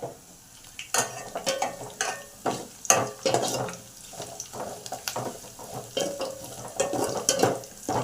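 Dry red chilli frying in a pan of hot oil for tomato rasam, with a soft steady sizzle broken by repeated scraping and stirring clatters of a spoon against the pan, close and moderately loud.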